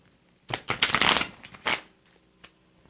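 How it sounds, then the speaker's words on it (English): A deck of tarot cards is shuffled close up in a quick burst of crisp riffling and slapping lasting about a second and a half, followed by a couple of softer taps. "So I'm going to give it a shuffle"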